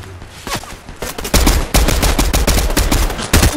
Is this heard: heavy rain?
no